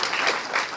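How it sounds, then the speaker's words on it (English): A conference audience applauding, with a brief, dense wash of clapping from many hands at steady loudness and no talking. "I think we should just all start by giving everybody here a round of applause."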